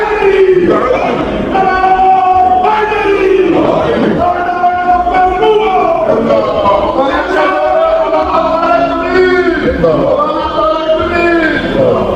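A large gathering chants slogans in unison, loud massed voices rising and falling in repeated rhythmic phrases that fill the space without pause.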